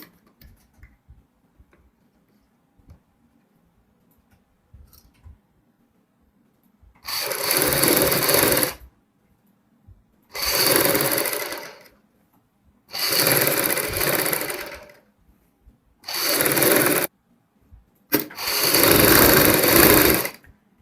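A sewing machine stitching along buckram while a kurti front neck is made runs in five close, loud bursts of steady rapid whirring, separated by brief quiet pauses with faint handling ticks.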